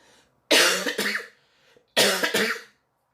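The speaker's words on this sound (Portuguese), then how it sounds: "Desculpa aí no vídeo, porque é inevitável a tosse" Two harsh, forceful coughing fits, each a burst of two or three rough coughs, close to the microphone with a pause between.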